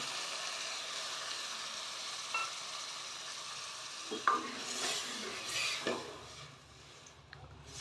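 Cooked toor dal and water go into a simmering vegetable sambar and get stirred, with a low sizzle, a few spoon scrapes and knocks against the pot, then quieter bubbling, all close and without talk.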